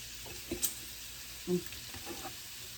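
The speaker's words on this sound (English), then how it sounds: "Fried potatoes and onions, can't beat that either." Potatoes and onions fry in a pan with a steady low sizzle, broken by a few brief scrapes or stirring clinks near the start and middle; no one speaks.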